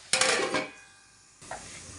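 A pot lid clatters down onto a pan of onions frying in a home kitchen, a sharp metallic clank ringing briefly before fading, then a softer knock follows.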